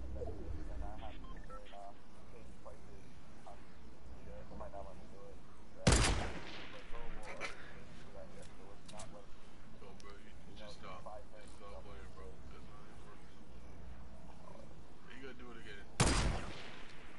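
Bursts of gunfire in the video game Fortnite crack out in two loud volleys separated by a stretch of quieter game ambience, with players chatting over the match.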